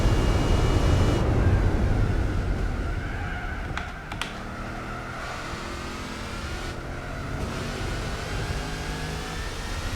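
Race car engine roaring in Gran Turismo 4, loud at first then easing to a steady drone with shifting revs and gear changes, a couple of sharp clicks near the middle.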